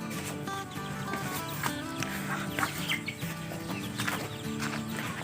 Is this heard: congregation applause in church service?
no